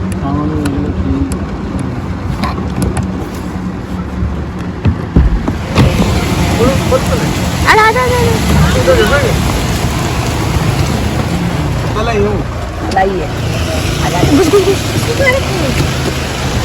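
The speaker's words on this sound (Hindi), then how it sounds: "श्रेया के हॉस्टल हम जैसे ही पहुंचे, उसके इतनी तेज बारिश" Heavy rain pours steadily at a hostel, a dense continuous wash of noise that swells louder partway through, with people talking over it.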